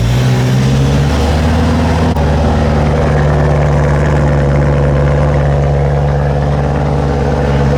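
A BMW M3 engine catches and settles into a steady idle, a loud, close, continuous low rumble with a brief cranking stutter before it fires, and no talk over it.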